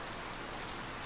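Steady, dense rain hisses evenly throughout a short stretch during a fall season in the farming video game Harvest Moon: Light of Hope, with no voices or other sounds.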